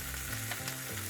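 Garlic frying in a pan with leftover pork lechon, a continuous close sizzle with a light stir, brief and without talk.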